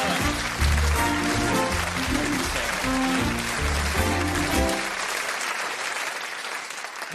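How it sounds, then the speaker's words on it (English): Loud, steady applause from a studio audience at a televised comedy show, dense and continuous, with a musical tune playing beneath for the first few seconds before the clapping carries on alone and slowly thins. "Round of applause"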